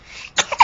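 A small child sneezes once, a short sharp burst following a faint breathy intake, close and fairly loud in a quiet room.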